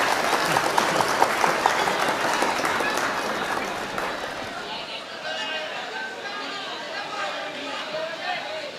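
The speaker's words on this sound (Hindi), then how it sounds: "तालियां बजाएं मैम के लिए, तालियां बजाएं।" An audience applauds at a mushaira opening and honoring ceremony in a town council compound, clapping strong for the first few seconds, then fading into softer crowd murmur and chatter.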